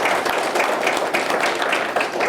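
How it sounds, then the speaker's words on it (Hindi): A seminar crowd claps loudly in welcome, a dense, continuous wash of many hands close by, with no one speaking over it. "हम चाहेंगे कि आप सब अपने स्वागत के लिए एक बार जोरदार तालियों से स्वागत करें"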